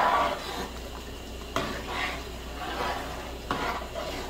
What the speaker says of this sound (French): Mélanger